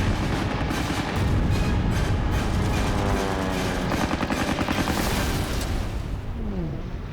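WWII fighter planes from the Tuskegee squadron fire their calibre .50 machine guns in a loud, dense, continuous stream of rapid shots that rattles on for several seconds without a break.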